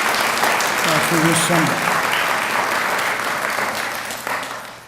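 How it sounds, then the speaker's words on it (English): Hall of Fame ceremony attendees give a round of applause to an inductee gift presenter, broad sustained clapping from a large crowd while a voice speaks briefly over it early on. "So I'd like to give a round of applause to Bruce Larsen"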